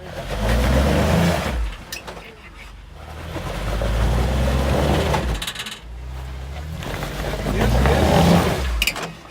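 An off-road vehicle climbing over rocks revs its engine hard in three long surging bursts with brief lulls between them, loud and close, with clunks from the rocks and people talking in between.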